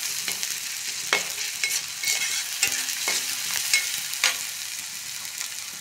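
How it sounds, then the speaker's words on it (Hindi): Coriander powder and spices roast in a pan for a village-style sabji of ridge gourd flowers. A close, crackling sizzle is broken by several sharp stirring clacks. "धनिया पाउडर, सारी चीज़ों को अच्छे से भून ले रही है।"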